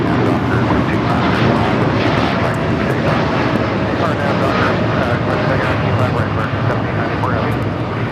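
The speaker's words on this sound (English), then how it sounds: "United Airlines 2127 taking off to Newark on the 787-9 Dreamliner" A United Airlines Boeing 787-9 Dreamliner takes off bound for Newark, its engines a loud, steady broadband roar that holds without a break, with talk going on beneath it.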